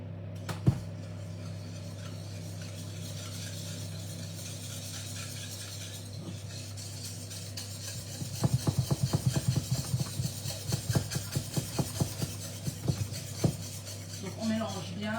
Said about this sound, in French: Et on va mélanger tout ça.